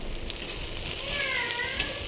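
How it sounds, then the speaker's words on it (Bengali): Garlic and dried red chillies fry in hot oil, giving a continuous close sizzle and crackle that holds steady for a couple of seconds. "এবার আমি আদা মানে একটু মাঝে রসুনটা দিয়ে একটু ভাজা ভাজা করে নিচ্ছি"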